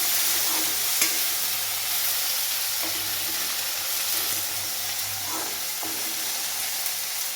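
Potatoes and tomato sautéing in a pan for capsicum curry, a steady close sizzle with occasional stirring scrapes, continuous and unbroken, no talk.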